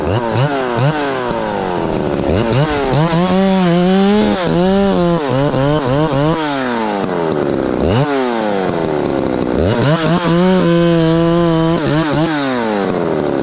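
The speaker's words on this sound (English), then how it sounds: "Sometimes I can put a dead spot in the low speed, bringing that idle up." Ported Poulan 3450 54cc chainsaw engine revving loud and close, repeatedly rising to a screaming full throttle and dropping back toward idle.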